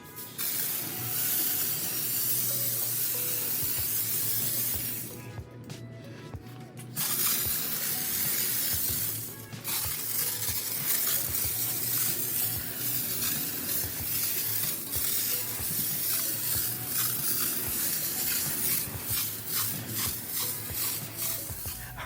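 A Fantikk portable air inflator runs with a steady hissing drone while spraying foam in a garage, close and fairly loud, briefly cutting out and restarting, with no talking.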